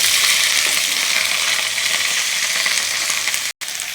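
Spinach and vegetables fry in hot oil in a wok, seasoned with green chilli and nigella seeds, giving a steady, loud, close sizzle that holds without a break apart from a short silence near the end.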